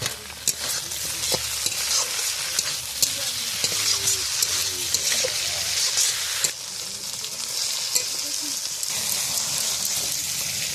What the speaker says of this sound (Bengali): সিম ভাজা হয়ে গেছে